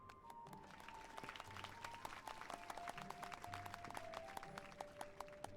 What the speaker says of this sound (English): They clapped for me.